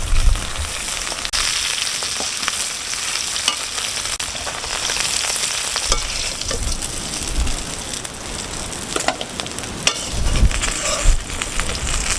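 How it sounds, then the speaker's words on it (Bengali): Parshe fish frying in a pan in a rustic village kitchen, a loud dense crackling sizzle that runs steadily throughout with scattered pops and spatters, close and alone. "আমি মাছ এখন ভেজে নেব"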